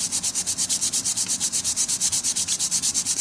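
Sandpaper rubs back and forth on a handmade cattail-style fishing float in quick, even strokes, roughly six per second, close and rasping.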